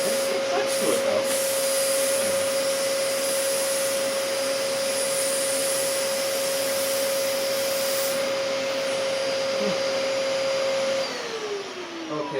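Dyson DC14 upright vacuum cleaner running steadily with a loud whining motor tone and airy suction hiss, close and continuous, winding down right at the end.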